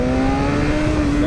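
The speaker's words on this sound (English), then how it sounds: "give it some gas and it gets some revs underneath it" BMW S1000RR motorcycle (2012) engine held at steady high revs, a loud, close, continuous droning whine with a strong tonal hum and no voices.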